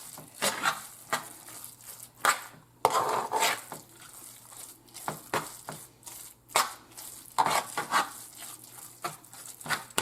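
Cornbread dressing stirred in a pot with a spoon, seasoned with garlic powder, giving repeated scraping and sloshing strokes in an irregular rhythm, close and fairly quiet.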